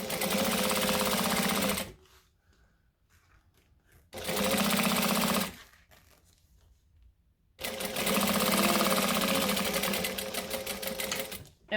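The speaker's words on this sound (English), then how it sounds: "I'm going to top stitch with a longer stitch length, 1/8 of an inch from the seam we just created." Sewing machine top stitching fabric with a longer stitch length, running in three loud rapid bursts separated by pauses of near silence, the last burst the longest.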